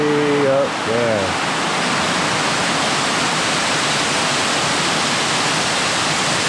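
Broad, steady roar of a waterfall close by, continuous and loud throughout, with a brief voice at the start.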